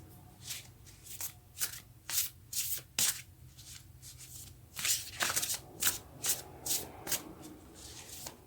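A deck of tarot cards being shuffled by hand, repeated crisp riffling bursts in an irregular rhythm, close and fairly quiet, with no talking.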